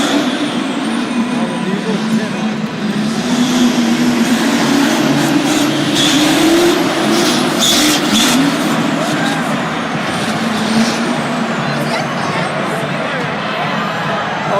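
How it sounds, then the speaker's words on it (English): The Brodozer monster truck roars at a Monster Jam stadium show in Syracuse, a loud, sustained engine rumble over a cheering crowd with an announcer talking throughout. "Colt Stevens having a great season so far, really enjoying the ability to drive this Brodozer truck"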